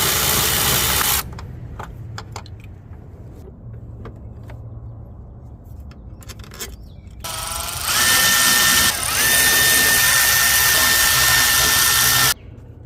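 A power tool drives out the 8mm bolts holding the air intake on a Mustang during a throttle body replacement, with short bursts of loud whirring and clicking separated by quieter gaps and a longer run near the end.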